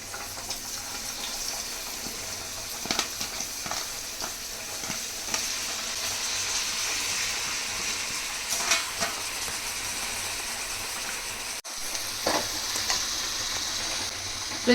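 Minced chicken keema sizzles in a pan after being washed and added, with a steady, fairly loud frying hiss and occasional scrapes and clinks as it is stirred.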